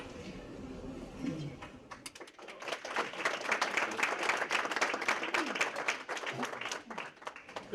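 Audience clapping at the close of an academic lecture, a scattered round of applause from a modest crowd in a hall that builds after a quiet start and continues steadily, with faint murmuring underneath.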